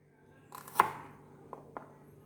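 Shallots are chopped in half on a cutting board: one sharp, close knife chop followed by two lighter taps, alone in a quiet kitchen.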